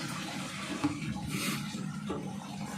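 Vegetables being rinsed in water to go with larb, soft splashing and trickling with a few louder sloshes, faint and close, no voices.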